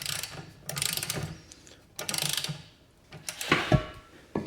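A ratchet wrench loosening the propeller nut on a bass boat outboard makes rapid clicking bursts in three separate runs, close and fairly loud, ending with a sharper metallic clunk.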